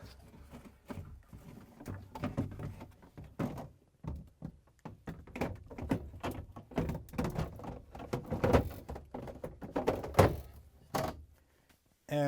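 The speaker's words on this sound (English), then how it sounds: "now I'm going to start placing the drawers and shelves in" Drawers and shelves being fitted back into an LG/Kenmore refrigerator: a series of plastic thunks, knocks and sliding scrapes at close range, irregular and clustered, with quiet pauses between handling sounds.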